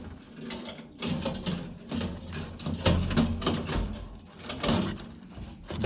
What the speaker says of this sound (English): Let's go ahead and set our new heat strips in.